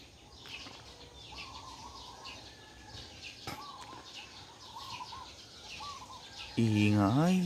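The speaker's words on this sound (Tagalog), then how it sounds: "Ang ingay ng mga ibon." Birds chirp and call around a small rural home in the Philippine countryside, repeated short tweets near and far over a soft background, with a brief loud burst of other sound at the very end.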